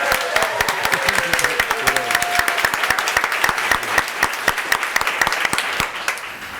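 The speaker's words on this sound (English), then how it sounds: "So let's give a big round of applause to Rodney." Audience applause for a keynote speaker at a tech conference: a loud, continuous wash of many hands clapping, with a few sharp individual claps standing out near the listener and a faint tone early on.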